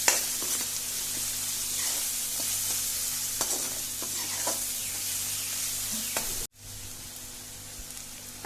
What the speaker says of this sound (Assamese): আদা নহৰু পেষ্টখিনি আমি যেতিয়ালৈকে ভাজিম, তেতিয়ালৈকে আদা নহৰু পেষ্ট পিঁয়াজে তেলখিনিৰ লগত ভালদৰে মিক্স হৈ নাযায়